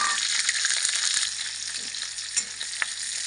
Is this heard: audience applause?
no